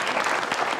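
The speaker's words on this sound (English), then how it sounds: "I never got applause when I did the guide report" Studio audience applause in a TV studio, a steady dense wash of clapping filling the whole short moment, loud and close with no talk over it.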